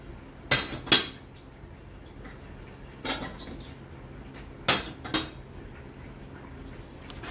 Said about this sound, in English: we'll start scraping all this gunk towards the middle.